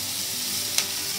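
Beans tip into a hot pan of lightly fried vegetables for an American chopsuey, setting off a steady close sizzle with one brief sharp crackle partway through.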